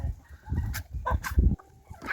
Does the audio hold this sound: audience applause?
no